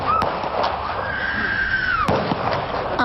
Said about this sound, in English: Then the silence shattered by gunshots